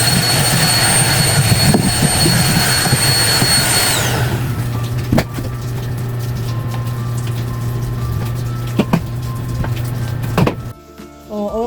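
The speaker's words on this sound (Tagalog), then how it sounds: "Gamitan natin ng vacuum." A loud, steady motor whine with a high-pitched hum drones continuously, then drops in pitch and cuts off near the end.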